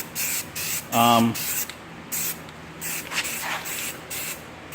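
Rust-Oleum NeverWet coating is sprayed onto an ATV from an aerosol can in several short hissing bursts. A brief tonal sound breaks in early, and a voice talks at moments between sprays.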